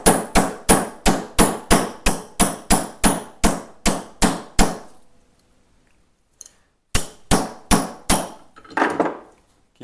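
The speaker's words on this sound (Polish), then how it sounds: "trzeba będzie użyć troszeczkę siły w postaci wybijaka i młotka" A hammer strikes a drift punch on a CZ 75B pistol in a rapid, even series of about a dozen sharp metallic taps, then a pause and another short burst, loud and close.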